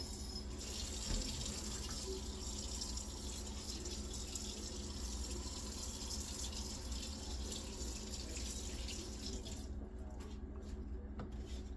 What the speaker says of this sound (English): Let me rinse my spatula off.